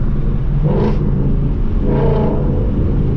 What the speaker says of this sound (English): how it just revs out a little longer